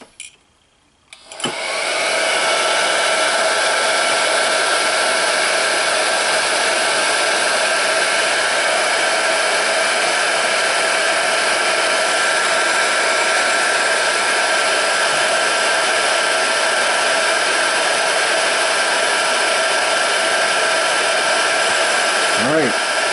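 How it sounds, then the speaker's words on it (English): A heat gun blows on heat shrink tubing over a soldered Deans battery connector: after a short click and pause, a loud, steady, close whooshing blower hum runs unbroken for over twenty seconds. "Get our heat gun."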